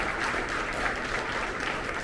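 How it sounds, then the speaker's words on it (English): A crowd at an awards luncheon during MED Week 2022 claps steadily in a round of applause. The dense, even clapping stays loud and continuous throughout, with no voices on top. "Round of applause. Round of applause."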